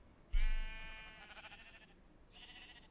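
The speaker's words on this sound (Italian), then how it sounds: "Poi questo rumore di sottofondo di pecore, mi sto addormentando." Sheep bleat in a Minecraft FTB Ultimate modpack multiplayer game, with one long, wavering, loud bleat followed by a second shorter call, and no talking.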